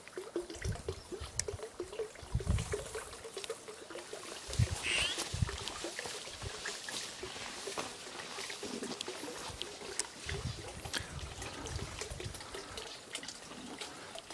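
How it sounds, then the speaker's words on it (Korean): Quiet outdoor spring water near a mountain cabin trickling and gurgling steadily, with a few soft thumps and occasional splashes, no voices. "물소리가 들리죠?"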